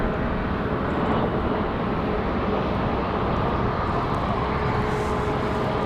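A Frontier Airlines airliner taxis at windy Raleigh-Durham airport, its steady jet-engine rumble broad and continuous, mixed with constant wind noise at an even, moderate level throughout.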